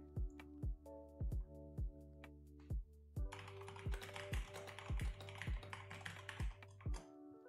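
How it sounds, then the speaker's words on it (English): Steady typing on a computer keyboard, a run of sharp, evenly spaced clicks heard up close with a faint background hiss and no talking, during a Minecraft livestream session. "I don't know how much of the typing you can hear now that my mic is up a little bit more"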